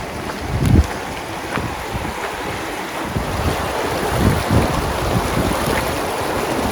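A stream rushes beside a footbridge on the Coosa Backcountry Trail, a steady, close, full wash of flowing water with some wind buffeting the microphone and no talking.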